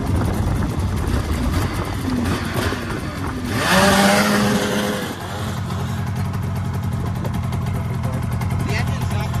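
Vintage snowmobile engine running steadily and fairly loud, a continuous droning motor that carries through the whole stretch while people talk over it.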